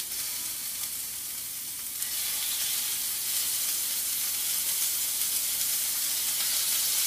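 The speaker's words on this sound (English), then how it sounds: "my oil should be about right. I'm just listening to it crackling." Hot oil sizzles and crackles steadily in a pan as chicken fries, a dense, continuous hiss that swells slightly louder partway through and holds without any talking.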